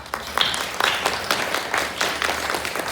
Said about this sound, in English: I would like to ask you to give them all a round of applause